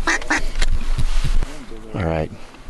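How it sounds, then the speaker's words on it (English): Ducks quack near hunting decoys in Alberta, Canada: a few sharp quacks early on, then a longer run of rapid, rasping quacks close by, with a person talking briefly in between. "We've already got ducks in the decoys."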